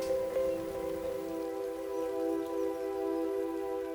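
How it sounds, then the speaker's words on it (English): Steady rain falls during a wet-season spell in farm country, a continuous even patter that holds for the whole stretch with no voices. "If it keeps raining, we won't move in here."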